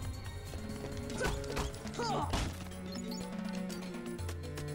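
A door mechanism grinding open in the Kingdom Hearts video game, a creaking, ratcheting run of gear clatter with a heavy clunk near the middle, set against steady background game music.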